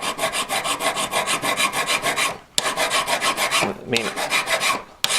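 A hand file worked over a V claw in quick, even back-and-forth strokes, a close, rhythmic rasping that pauses twice briefly before resuming, with a short spoken phrase partway through.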